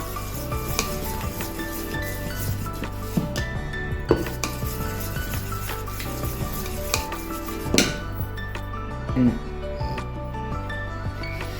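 A spoon stirs uttapam batter with salt in a bowl, making soft continuous scraping and light clinks against the bowl, with background music.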